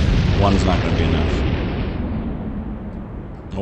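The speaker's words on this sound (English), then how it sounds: "Or maybe, with a secondary explosion," A warship in the naval combat game Atlantic Fleet erupts in a loud secondary explosion, a heavy booming roar that opens the clip and slowly rumbles away over several seconds, with a voice speaking over it.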